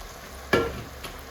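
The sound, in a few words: stirring okra tamarind curry in a pan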